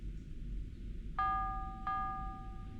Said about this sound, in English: I rang all these bells.